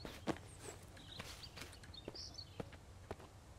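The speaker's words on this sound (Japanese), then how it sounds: "あ、俺の足音今の。" Footsteps of a player character walking in the survival horror game Mist Survival, a series of soft, irregular steps at low volume over a faint ambient background, with scattered brief game sounds and no voices.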